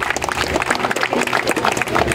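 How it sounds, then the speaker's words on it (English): Audience applause at a Houston gathering encouraging Black fathers, brisk close clapping from a modest crowd with uneven, lively bursts and no talk over it. "you should give yourselves a round of applause for being here and making history"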